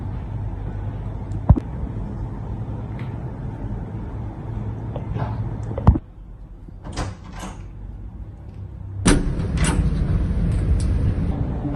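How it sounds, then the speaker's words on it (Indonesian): A house door is opened in a drama scene, with a few sharp knocks and clicks of the latch and handle over a steady low hum, then a brief creak. "Saya buka pintu dulu ya."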